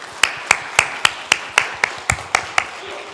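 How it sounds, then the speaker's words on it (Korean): A church congregation gives a short round of applause at a Sunday service, about ten sharp, evenly spaced claps ringing out close and clear. "감사의 박수 한번 하겠습니다. 축하의 박수."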